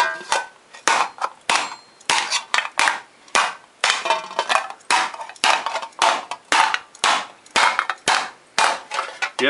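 A hammer domes sheet metal for a Viking shield in a regular rhythm, about two sharp metallic blows per second, close and loud with no talking.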